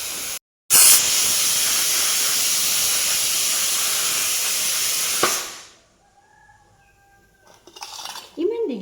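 A kitchen pressure cooker cooking rice lets out a loud, sustained hissing whistle of escaping steam for several seconds, then cuts off sharply into quiet kitchen clatter.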